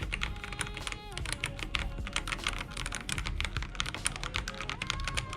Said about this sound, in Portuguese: Aqui nessas teclas se encontra ainda o switch antigo, então vai dar pra gente ver a diferença do barulho